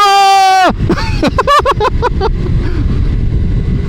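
Small 125cc motorcycles accelerating hard at full throttle on a city street, with a sharp high revving engine whine that cuts off into several quick gear-change bursts, then rough wind-buffeted engine noise close to the microphone.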